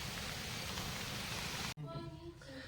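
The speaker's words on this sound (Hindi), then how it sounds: "एई वर्षा देखो गाइस केते पानी" Heavy rain pours down as a dense, loud hiss that suddenly cuts off and gives way to quieter tonal background sounds.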